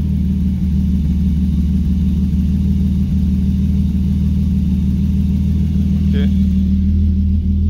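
A car engine being worked on in a swap project idles steadily at about 1000 rpm, a close, even low rumble with a brief faint click and a short spoken word over it.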